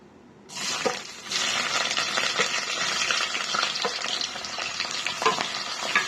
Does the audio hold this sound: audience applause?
no